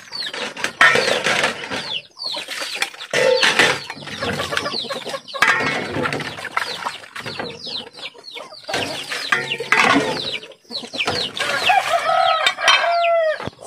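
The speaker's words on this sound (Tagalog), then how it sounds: "Dami ng alagang manok ni Banong." Chickens cluck and squawk busily nearby while a rooster crows repeatedly, a lively, overlapping barnyard chorus with no talking.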